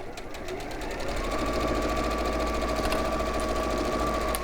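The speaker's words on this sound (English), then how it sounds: "we're just sewing along that raw edge" A sewing machine runs steadily, stitching along a raw fabric edge with a 1/4 inch seam allowance, its rapid even mechanical whir holding near and continuous from start to finish.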